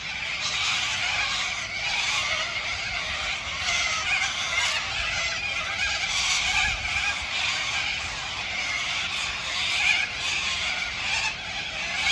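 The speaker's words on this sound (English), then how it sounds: "Love the sound of those cockatoos" Harsh, shrill bird screeches carry on continuously, a dense raucous chorus of cockatoos outdoors at a moderate distance.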